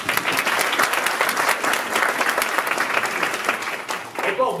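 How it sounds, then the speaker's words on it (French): Dense, continuous applause from a lecture audience at the University of East London, loud and sustained throughout before thinning briefly near the end. "Applaudissements."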